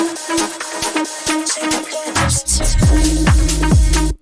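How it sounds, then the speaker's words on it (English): Fresh techno percussion loop from a remix, with the kicks dropped out: a busy, loud groove of clicky hits and tonal percussive strikes that shifts into deeper, booming pitched hits in the second half. "In here I also took a break from the kicks because I introduced these new percussions."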